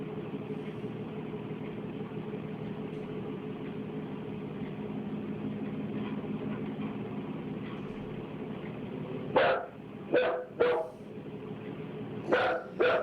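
A dog barks several times in short, sharp bursts near the end, over a steady low engine-like drone that runs throughout.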